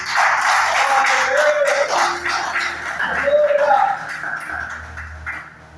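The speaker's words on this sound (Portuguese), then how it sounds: "bate palmas para Jesus" A church congregation clapping hands during worship, steady rhythmic claps from many people mixed with voices and room noise, fairly loud and fading toward the end.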